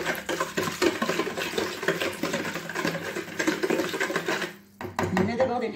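Dough ingredients with yeast granules, for Moroccan krass or qrachel made without white flour, are stirred in a bowl, giving continuous close scraping and sloshing with clinks against the bowl, a short pause, then more mixing.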